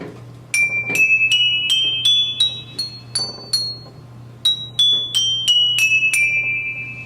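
Bright metallic bar tones ring out one at a time, stepping up a scale and then back down, each strike clear and sustained over a low hum.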